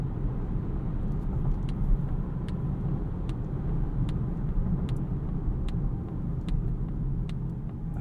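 A 2022 Polestar 2 Long Range single-motor electric car pulls away from a stop, a steady low road and tyre rumble filling the cabin with faint faint ticks above it and no voices.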